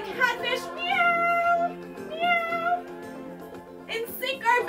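A person imitates a cat meowing during a kids' yoga class with drawn-out, wavering vocal tones, close and clear, that rise and fall in several stretched phrases.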